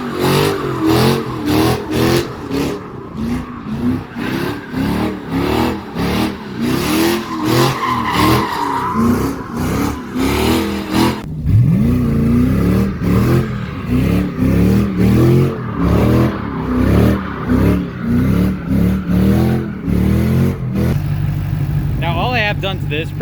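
Rear-wheel-drive car doing burnouts, tyres skidding and squealing while the engine revs hard in repeated surges, loud and close, with people talking over the noise throughout.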